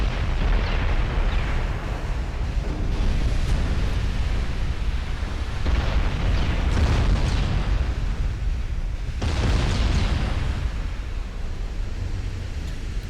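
Naval gunfire shells striking a warship in a naval battle video game: a continuous roar of heavy explosions and rumbling artillery impacts, with several louder bursts rising out of a dense, washing background like surf and wind.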